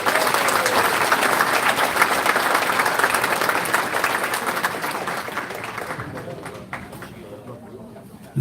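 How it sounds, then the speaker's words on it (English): A crowd at a campaign event for a U.S. Congress candidate claps in sustained, dense applause that gradually tapers off over about eight seconds, with faint chatter underneath. "Let's give one round of applause one more time"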